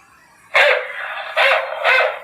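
A voice mimics a dog barking, giving three loud, drawn-out bark-like calls in quick succession with no other sound around them.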